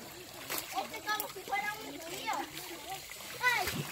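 People bathing in a river, splashing water continuously near the listener while voices, including children's, chatter over the top.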